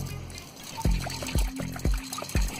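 Water splashes onto a rusty car radiator during washing, arriving as four distinct bursts roughly half a second apart, close and moderately loud, with a steady background hiss between them.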